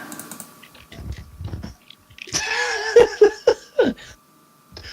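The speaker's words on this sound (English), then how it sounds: "Whatever you're typing, L, just stop." Rapid computer keyboard typing clicks in a quick burst, with a few louder separate taps, heard near and under faint background chatter during a tabletop role-playing game session.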